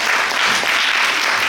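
A conference audience at a sustainable tourism workshop applauds a guest as she arrives. The clapping is steady, dense and fairly loud, lasting a brief moment with no voices over it.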